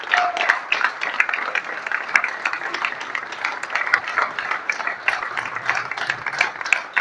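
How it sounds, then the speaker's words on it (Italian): A crowd claps steadily for the mayor on a city street during a farewell procession. The applause is dense and sustained throughout, from many hands at moderate distance, with no voices standing out. "un grande applauso per il sindaco"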